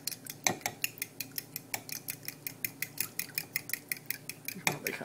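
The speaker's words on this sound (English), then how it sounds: "And then you just whisk it together" Rapid, steady metallic clicks of a whisk beating okra fritter batter in a bowl, close and even in rhythm, with a few louder knocks against the bowl's side.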